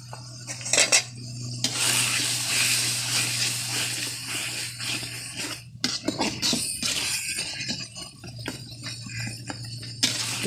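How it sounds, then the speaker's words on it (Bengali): Spoon scraping and clinking against a pot while biryani spices are stirred with yogurt over a clay stove, irregular metallic taps and scrapes over a steady low hum, with no talking. "ভালো করে কষাতে হবে যেন কাঁচা গন্ধ যেন না থাকে মশলার।"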